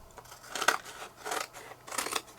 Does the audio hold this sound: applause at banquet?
no